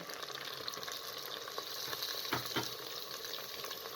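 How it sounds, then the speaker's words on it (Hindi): Whole garam masala, onion and mutton fry in a pot with a continuous close sizzle. A few stirring scrapes and knocks stand out near the middle, and no one speaks. "साबुत गर्म मसाला इस तरीके से डालकर 2 से 3 मिनट तक फ्राई कर दें"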